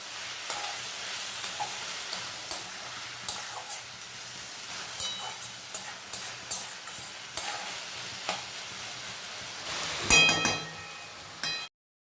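A spoon stirs drumstick leaves into fried potato and eggplant in a pan, giving soft irregular scraping taps over a faint sizzle, with a louder clattering flurry near the end.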